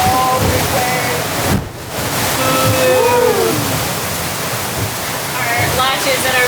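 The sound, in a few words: big ocean wave hitting sailboat at sea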